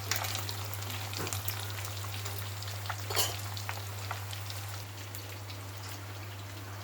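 Fish frying in oil in a pan, heard as a soft, even crackling sizzle with occasional pops over a steady low hum, moderately close and without talking.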